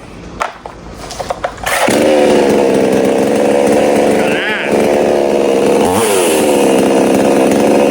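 A Temu-brand chainsaw, running without choke, sputters through a few pulls and then fires up, settling into a loud, close, continuous buzzing roar with brief revs rising and dipping.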